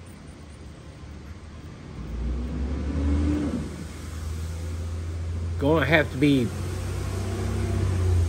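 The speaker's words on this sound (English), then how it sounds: "The garbage truck is rolling through town." Low rumbling engine of a garbage truck rolling through a lakeside town near docks, a steady drone that swells and lingers, with someone speaking briefly over it.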